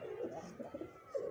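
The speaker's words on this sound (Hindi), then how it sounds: "सारे कबूतर इकट्ठे हो रहे हैं" Pigeons cooing in a small pigeon setup, soft, low, rolling coos repeating close by at low volume, with no talk.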